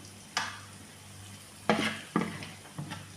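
Carrots for a Telugu carrot fry crackle in a pan over a low steady sizzle. Four distinct bursts of scraping and stirring stand out above it, close and fairly loud, with no talking.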